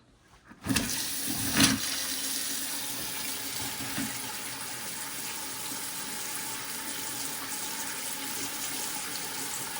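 Water rushes from a faucet fed by a newly installed hot water heater, the rusty old tank just replaced: after a brief quiet start, a steady, close, continuous stream hisses and splashes into the sink without pause, with no talking.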